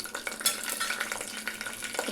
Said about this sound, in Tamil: 1/2 டீஸ்பூன் அளவுக்கு கடுகு இது பொரியட்டும்